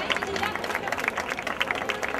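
Dense, steady applause from a crowd at a prize-giving ceremony for a youth women's category winner of a night road race in Rota, many hands clapping together throughout.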